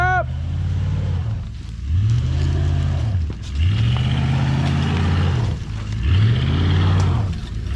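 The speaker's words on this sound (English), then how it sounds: "You're burning your tire up." A 1979 Chevrolet Malibu, started after sitting for 20 years, revving loudly in repeated surges as a tire spins, each rev rising and falling in pitch with short dips between, close and powerful.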